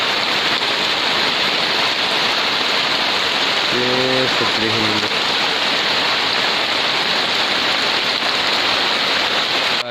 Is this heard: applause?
no